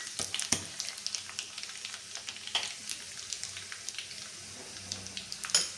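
Three dried red chillies hiss in hot oil for a tadka for spinach khichdi, a sparse crackle of scattered pops and spits at close range.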